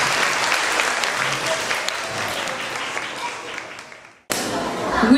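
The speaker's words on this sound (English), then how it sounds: "How about a big round of applause for her?" Audience applause at a school staff gathering, steady clapping that gradually fades before cutting out abruptly, followed by a brief burst of crowd noise.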